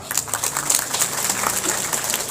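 Audience applause for a sub-district head at a Muhammadiyah branch event in Indonesia, a steady wash of many hands clapping throughout, fairly loud and dense with no talk over it.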